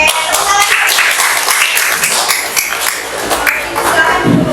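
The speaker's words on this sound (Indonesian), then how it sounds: "Oke, tepuk tangan" Students in a classroom clap their hands together, a dense, fairly loud burst of clapping lasting a few seconds with voices mixed in.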